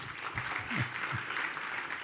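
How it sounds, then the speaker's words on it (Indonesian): A church congregation applauds during a sermon, a soft, distant, continuous patter of clapping with a faint voice briefly audible underneath. "Tepuk tangan dong."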